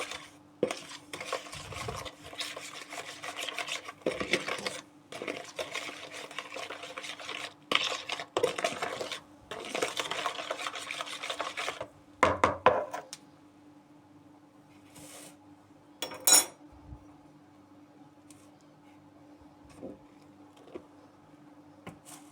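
Cocoa, baking soda and flour being stirred together in a bowl for Russian pryanik cookie dough, with repeated scraping and clinking strokes in bursts for about twelve seconds, then fainter occasional taps.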